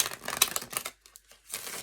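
Tarot cards shuffled by hand, giving a quick run of dense papery riffling and flicking, a brief pause, then another short burst of shuffling, close and fairly quiet with no talk.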